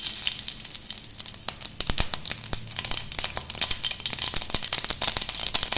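Mustard seeds spluttering and popping in hot oil in a pan, a quick scatter of sharp crackles over a steady low sizzle, close and fairly quiet, with no talking.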